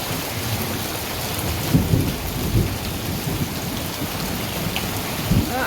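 A thunderstorm pours steady rain onto a tarp over a partial-shade garden in zone 9A, a dense constant patter with a few low rumbles of thunder rolling through.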